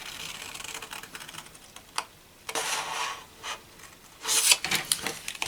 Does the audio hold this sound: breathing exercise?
no